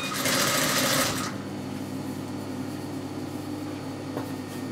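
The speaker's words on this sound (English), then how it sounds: "sew on top of the gathering seam that we've already done" A sewing machine stitches hem trim onto a gathering seam, running in a fast, loud whirring burst for about a second, then settling into a steady, quieter hum with a faint click near the end.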